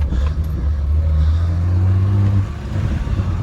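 A BMW E30 325iS engine runs close up with a steady low rumble that swells for a moment as it revs, then drops back to idle. The car has a noisy lower motor and loses power above light throttle.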